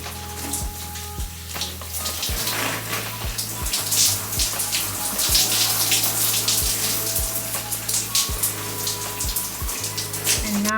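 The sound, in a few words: water rinsing a deep conditioning mask out of hair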